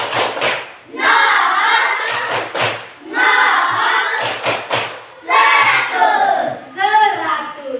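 Children perform the 'tepuk 100' clap routine during a coding practice lesson led by a teacher; sharp, rhythmic claps come in quick clusters amid loud chanting voices.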